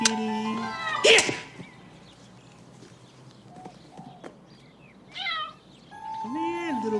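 A cat meows a few times, rising and falling, in a quiet room as a person calls to it, with some faint knocks and shuffling in between.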